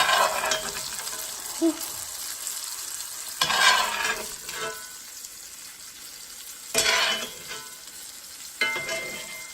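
Meat sizzles in a hot pan while being basted, with steady frying crackle and several louder surges of spitting fat as hot fat is spooned over it, the bursts coming every few seconds.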